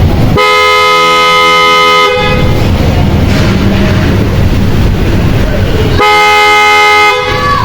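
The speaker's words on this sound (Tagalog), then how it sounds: "kahit napakalakas ng busina" A loud aftermarket horn on a Dink R 150 motorcycle blares twice, each blast lasting a couple of seconds with a pause between, very close and harsh.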